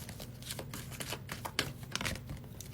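Tarot cards being shuffled by hand, a run of soft papery riffles and flicks with a few sharper snaps, close and fairly quiet with no talking.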